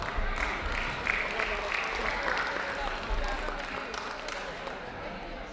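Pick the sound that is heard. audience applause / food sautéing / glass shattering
audience applause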